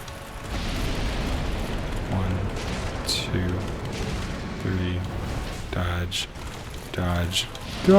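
A boss's fire attacks in the Darkest Dungeon video game erupt as a series of heavy, booming blasts about a second apart, loud over a constant rumbling roar.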